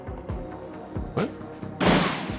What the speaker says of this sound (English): Apparently that's a shotgun.